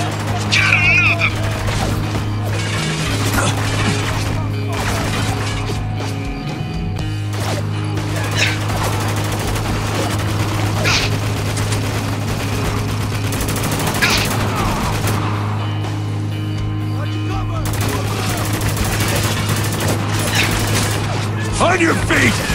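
A heavy machine gun fires sustained bursts in the war shooter Spec Ops: The Line, with dense rattling gunfire and impacts running throughout over a steady background hum, while voices shout over the shooting.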